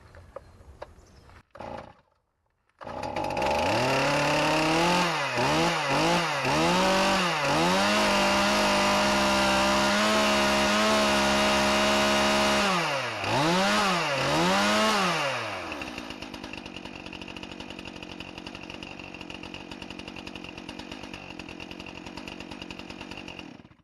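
A small gasoline engine on a chainsaw-type tool is choked and pulled over, then fires up and runs loud and close, revving up and down several times before settling into a steady, slightly quieter idle.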